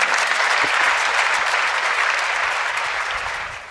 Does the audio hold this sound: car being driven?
no